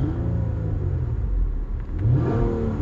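A car engine idles with a low steady rumble, then rises briefly as it is revved during an oxygen sensor test, close and loud throughout.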